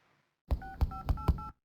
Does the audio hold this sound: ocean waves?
no